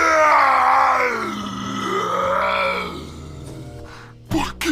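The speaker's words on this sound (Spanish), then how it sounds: "Dando un alarido, gritó" A man lets out a long, loud howling scream that rises and falls in pitch over several seconds, fading toward the end with a short burst of other sound.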